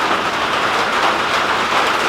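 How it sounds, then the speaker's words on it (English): Heavy, large raindrops drum on a greenhouse roof in a dense, loud, continuous patter without a break, no voices present. "We're getting a little bit of rain, and I know it sounds like it might be a lot because it's loud"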